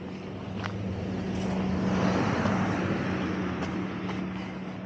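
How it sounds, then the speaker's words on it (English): A car rolls up from behind on a street in Anaxos on Lesbos, a broad engine and tire hiss that swells to a peak midway and then eases off as it passes close by. "Guess I'm going to have to step aside because that car is now behind me"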